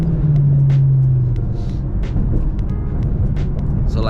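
A 2005 Ford Mustang GT with stock suspension drives over an uneven, bumpy road, a steady low cabin rumble with scattered thumps and rattles from the bumps.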